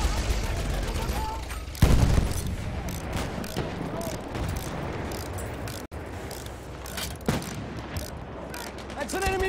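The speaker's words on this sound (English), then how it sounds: "That's an enemy machine gun!" Enemy machine gun fire in Battlefield 1, heard as dense, continuous bursts of gunfire amid loud battlefield noise and clatter, with a sharp louder burst near the start and game voices calling out over the din.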